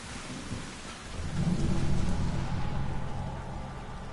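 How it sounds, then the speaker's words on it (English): Steady rain pours in a Mass Effect 2 Legendary Edition game scene, with a low rumbling swell building from about a second in, like distant thunder beneath the downpour; no talking. "I like the raindrops that fall off now."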